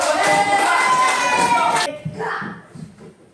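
Students in an Indonesian school classroom clap together in a dense burst of hand claps that cuts off sharply partway through, leaving a few scattered claps and faint voices of children and a teacher.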